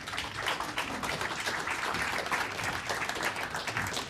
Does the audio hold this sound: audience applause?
yes